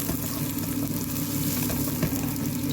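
Onions and garlic sizzle steadily in hot oil while being stir-fried for bihon noodles, a loud, even crackle with no pauses.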